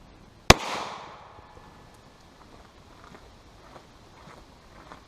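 A single sharp, loud gunshot from an M1 carbine fired at a U.S. M-84 PASGT Kevlar helmet, with a short ringing decay, followed by quiet outdoor ambience and faint scattered movement.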